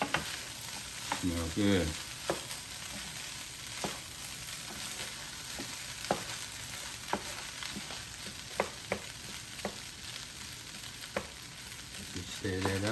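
Turkey fried rice being stirred in a Power XL cooker, a steady sizzle under periodic spoon scrapes and taps against the pot, with a brief spoken remark near the start.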